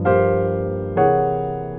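Two rich jazz piano chords built on upper-structure quartals are struck one after the other, each ringing out and slowly fading.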